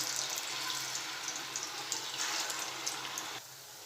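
Bubbling hiss of rice flour pakoras deep frying in oil over medium heat, steady and moderately close, with a faint hum underneath and a slight drop near the end.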